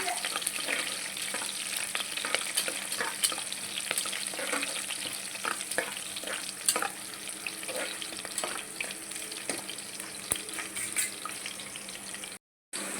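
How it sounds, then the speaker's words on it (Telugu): Four cashew nuts fry in oil for vegetable pulao, with a steady close sizzle and occasional scraping stir clicks, then a brief cut near the end. "ఇందులో ఒక నాలుగు జీడిపప్పు మంచిగా ఆయిల్లో ఫ్రై అవ్వాలన్నమాట"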